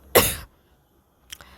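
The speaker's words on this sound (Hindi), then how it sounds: "तभी इंटरव्यूअर खांसते हुए आता है।" A man coughs once, short and loud and close, during a romantic scene in a drama, then a brief, fainter throat sound follows after a pause.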